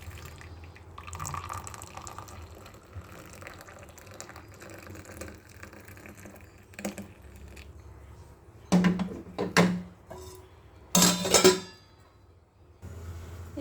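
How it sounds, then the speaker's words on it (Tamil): Pineapple soup strained into a tumbler gives a few short pouring and dripping bursts of liquid, louder splashes clustered late, over a faint steady background with no talk. "இப்படியே வடிகட்டி எடுத்துக்கிறோமே டம்ளரில் வடிகட்டிக்கிறோம்"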